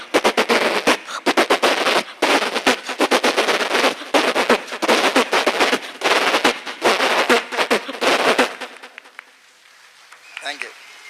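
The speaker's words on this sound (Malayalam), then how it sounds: "മാലപ്പടക്കത്തിന് തീ കൊളുത്താൻ പോവാ" A string of firecrackers is set off, a long rapid crackling burst of loud bangs that runs for about eight seconds and then dies out.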